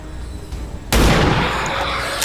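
A single loud gunshot in the XCOM tactical video game, one sharp blast that cracks and rings out with a lingering tail over a low ambient hum.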